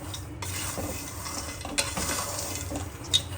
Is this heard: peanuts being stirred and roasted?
yes